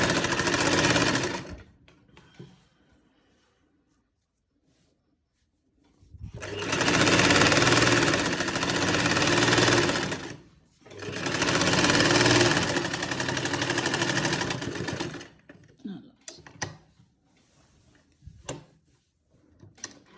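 Sewing machine stitching a blouse in three close, steady bursts of rapid rhythmic clatter separated by pauses, ending with scattered clicks and handling noises.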